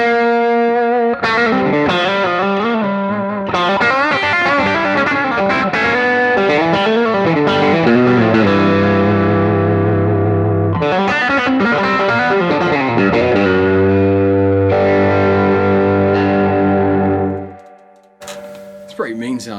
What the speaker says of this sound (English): So this Doubleland Special Overdrive. Right, so this is the first channel